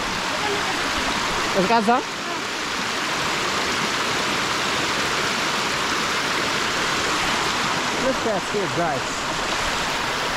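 A river at Mount Jamo in Wolayta Sodo, Ethiopia, rushes in a loud, steady broadband wash, heard close and continuous while someone speaks briefly at the start and again near the end.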